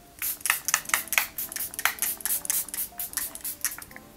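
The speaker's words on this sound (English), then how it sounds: "Now let's spray the face down." Quick bursts of setting spray hiss close by onto a face, several short sprays in an uneven rhythm with brief pauses between them.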